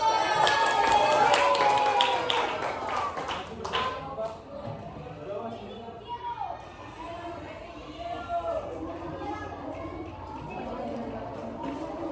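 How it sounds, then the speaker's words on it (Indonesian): Children in an elementary school science class clap their hands, a burst of many overlapping claps early on that soon thins out into scattered taps beneath chatter and voices. "Ayo kasih tepuk tangan dulu."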